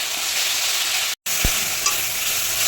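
Tomato paste with salt, ginger, turmeric, chili powder and ground spices sizzles steadily in a pan, with stirring, a short break in the sound, and no talking.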